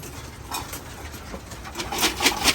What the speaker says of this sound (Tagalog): So ngayon tinatawag na natin yung mga ibon.